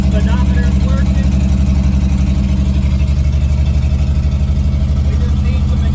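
A 1952 vehicle's engine idles without an exhaust system fitted, giving a loud, close, rapid and evenly pulsing low throb that runs unchanged throughout.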